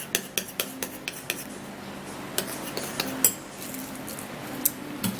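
A spoon stirs a foamy coffee mixture in a bowl, clinking sharply against the sides in a quick run of taps before settling into softer, scattered scrapes and knocks.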